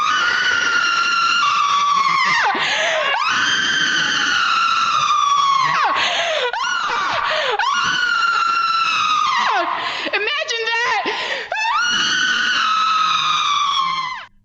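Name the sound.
person screaming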